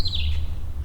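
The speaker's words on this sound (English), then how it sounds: "now I hear a bird chirping at the right of me" A single short bird chirp sounds off to one side outdoors, a quick high sweeping note over a low background rumble.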